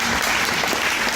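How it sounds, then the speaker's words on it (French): An audience at a fashion forum claps in steady, dense applause that fills the short moment without pause. "Donc déjà, je trouve que ça s'applaudit pour commencer."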